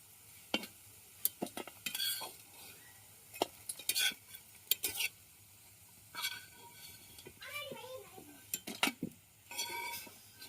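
Lentil fritters (dal bora) fry in a pan, with scattered bursts of sizzling mixed with a spatula scraping and stirring and metal clinks. Someone talks intermittently over the close kitchen sounds.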